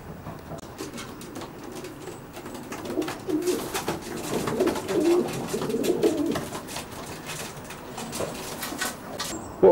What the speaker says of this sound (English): Keep 27 pairs of stock pigeons.